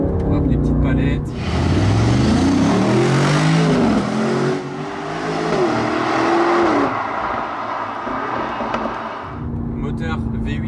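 A 665-horsepower 2024 Aston Martin Vantage with an AMG twin-turbo V8 drops to second gear, its engine note swooping up and down in loud, close rising and falling sweeps before settling into a steady drone.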